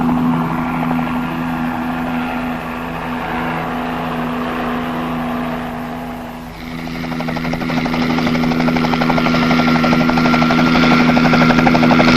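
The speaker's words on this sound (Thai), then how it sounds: "เมื่อได้ยินเสียงยนต์เฮลิคอปเตอร์บินเข้ามาใกล้" A helicopter engine drones with a steady whine and rhythmic rotor thump, growing louder and more insistent as it draws nearer in the second half.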